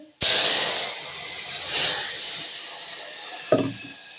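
Garlic hits about two tablespoons of hot oil while tempering pasalai keerai (spinach) kadaiyal, starting as a sudden loud, steady hiss that crackles on, with a brief clatter near the end.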